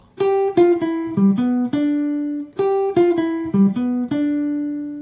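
A clean, warm jazz guitar plays a short melodic lick of plucked notes starting on the 5th, then repeats it, each note ringing clearly with no talking.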